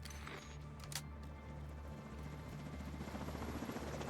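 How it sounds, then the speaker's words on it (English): Steady helicopter rotor drone in The Division 2, an enemy chopper thrumming in a rhythmic pulse that grows slightly louder, faint and continuous with a few brief game sounds, no talking. "Enemy helicopter approaching."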